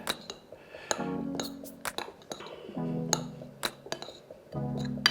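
Avocado, lime and coriander mixture stirred in a bowl, giving close clinks of a utensil against the bowl between soft squishy scraping strokes, repeating at an uneven rhythm without talk.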